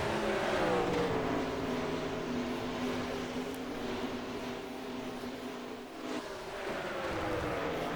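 Stock race cars roaring together as they accelerate at a restart, in a racing video game set at Canadian Tire Motorsport Park, a loud sustained engine drone with rising pitch and no speech.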